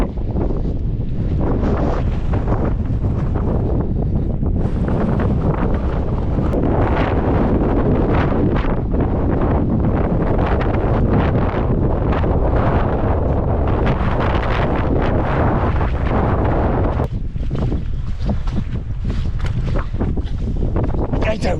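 Strong, stormy wind gusts across an open hillside where sheep graze, roaring and buffeting the microphone steadily without letting up.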